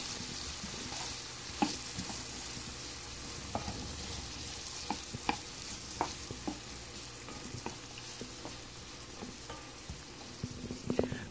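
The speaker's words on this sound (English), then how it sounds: "you got to make sure the oil and the garlic are getting very well seasoned with the olive oil" Garlic sizzles steadily in olive oil for a homemade spaghetti sauce, with a spoon scraping and clicking against the pan in irregular taps over the constant close frying hiss; no voices.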